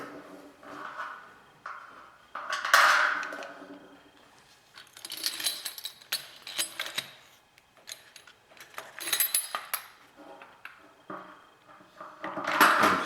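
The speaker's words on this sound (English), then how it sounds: "I'm going to shove through the first bolt here." Metal bolts and nuts clink and rattle against a 60cm solid universal satellite dish during assembly, a series of close, bright clatters and scrapes with quieter handling between them.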